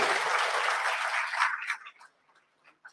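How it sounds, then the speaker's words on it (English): A crowd applauds loudly for about a second and a half, then the clapping thins out to a few scattered claps and fades. "So big round of applause to the school."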